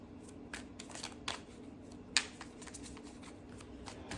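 A Wizard's Tarot deck is shuffled by hand in a quiet room. There are soft, faint riffling and sliding card sounds with a few sharper snaps, and nobody talks.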